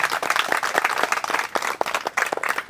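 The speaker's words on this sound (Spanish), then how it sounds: "vamos a darle un fuerte aplauso al cumpleañero que está cumpliendo años hoy." A church congregation claps for a birthday celebrant during a Saturday Mass, a dense, sustained patter of many hands at moderate loudness throughout.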